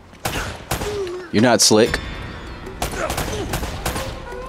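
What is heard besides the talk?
gunfire from the video game Uncharted: Drake's Fortune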